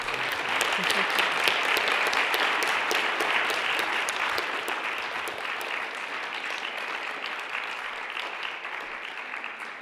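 Audience at an academic panel on post-Roe legal and medical issues clapping after a talk, a strong, dense round of applause that gradually thins and fades over ten seconds.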